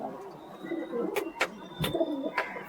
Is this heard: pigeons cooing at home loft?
yes